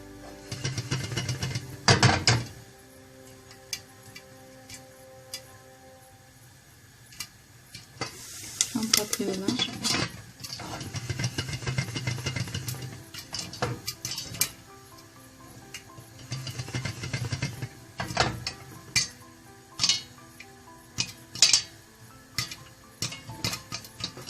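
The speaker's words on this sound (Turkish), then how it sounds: "Tencerede son mısırlarımız da patladı." Kernels popping and rattling inside a pot being shaken, with a steady sizzling hiss and scraping bursts throughout, close and moderately loud.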